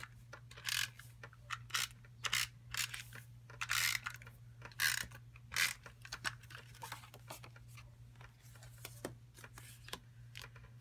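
A Tape-a-ma-jig tape runner applying tape to a card: faint, soft ratcheting clicks and short scraping bursts in an irregular rhythm over a steady low hum, quiet and close.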